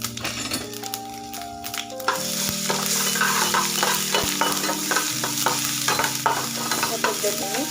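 Ginger-garlic paste and curry leaves fry in hot oil as a steady loud sizzle for potato vada filling, with repeated spoon scrapes stirring through it and a low hum running beneath.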